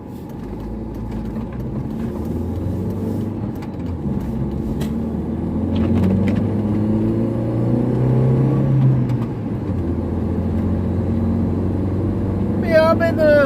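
Cars drive along a road near a bridge, a steady engine and tire roar that swells in the middle, with a person talking over the traffic.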